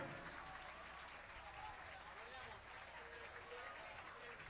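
Concert audience at the Black Note Club applauding the keyboard player during a pop band's show, a continuous, faint, distant patter of clapping with muffled low rumble underneath.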